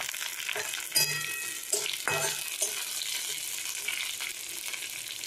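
Torn green chillies sizzle and crackle in hot oil in a pan, a steady close frying hiss broken by a few louder stirring scrapes, with no talking.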